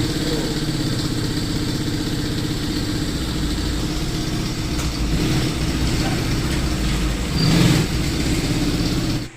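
A motorcycle engine, just repaired with replaced clutch-side parts, runs steadily at idle with a low, throbbing rumble, briefly revving louder twice near the end before cutting off.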